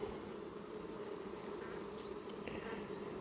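Honey bees hum steadily on a hive frame, a dense continuous buzz of many insects close by with no talk.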